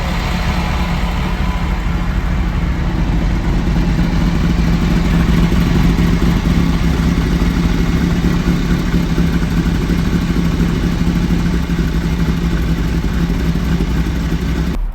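A 1983 Ferrari Mondial QV engine drones steadily while driving, a loud, constant low rumble with mechanical clatter heard close and alone.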